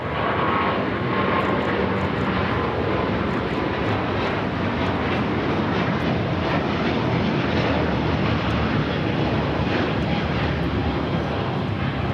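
An Emirates airliner taxis at LAX toward runway 25 left, its jet engines giving a steady, loud, close roar that holds level for the whole stretch, with no voices over it.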